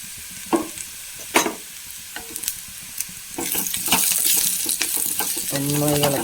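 A spoon scrapes and stirs crushed chili and onion frying in a pan with cooked papaya, a few sharp scrapes at first, then a steadier loud sizzle that builds and holds toward the end.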